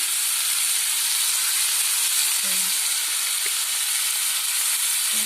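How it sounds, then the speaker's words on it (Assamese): A steady, loud hiss of oil frying salt, turmeric and spices fills the clip, constant and close, with a faint clink or two partway through. "এইখিনি মই গোটেই ভাজি ল'ম।"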